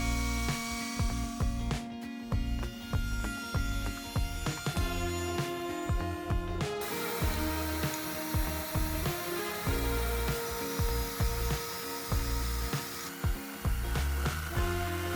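Power tool chamfering the underside edge of a wooden tabletop, a steady loud whine with rough cutting texture running throughout, shifting pitch partway as the bit moves along the wood.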